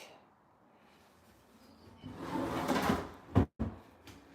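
Kitchen drawer slides open and shuts nearby with a rising rumble and a sharp knock near the end, after a quiet start.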